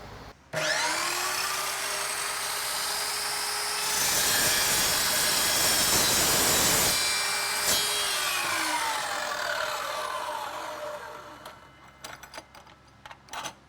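Evolution EVO SAW 380 steel chop saw spins up with a rising whine, then grinds loudly through an 8-inch steel bolt for several seconds before winding down, followed by a few light clanks.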